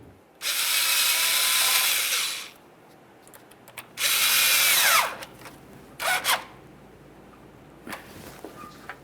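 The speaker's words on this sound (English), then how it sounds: "We'll just go ahead and slide this hose into place and tighten the clamp." Power driver tightening a hose clamp on the lower radiator hose of a 1998-2011 Ford Ranger 2.3L L4, heard as two long whirring bursts followed by a few short blips, close and loud against a quiet background.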